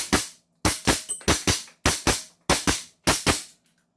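A CZ Shadow 2 pistol fires a series of about ten sharp shots in quick pairs and singles, each crack loud and close with a short decay, no voices in between.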